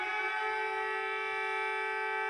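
Portugal's emergency alert siren sounds as a steady, sustained electronic wail with no break. It is loud and unbroken, with no voices over it.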